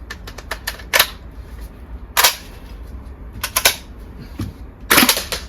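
A VFC gas blowback MP5 airsoft gun fires BBs in cold weather on a single gas charge: sharp clacking shots, one at a time and in short sputtering bursts, loud and close, with no talking.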